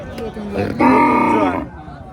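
A desi (native breed) cow lets out a single loud, drawn-out moo, with faint voices and farmyard noise around it.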